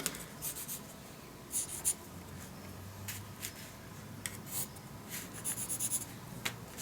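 A pencil draws straight lines on graph paper, making faint, close scratchy strokes in short bursts with small pauses between them, and no voices.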